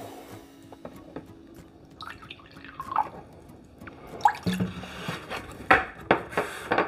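Water and vinegar being poured in equal quarter-cup amounts for pickling ramps in a kitchen: faint trickling and splashing, then sharper drips and clinks of a cup and jar, close by and with no talk.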